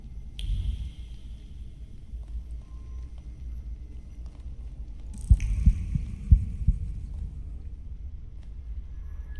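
A heartbeat in the video game The Thaumaturge, a low, soft thumping pulse under a faint hum, with a few louder, closer thuds in the second half.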